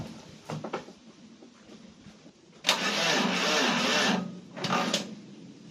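A 3-litre Iveco engine is cranked on a start attempt with only the original earth strap fitted, giving a loud burst of cranking that fails to catch, then a shorter second burst, with quieter clatter between them.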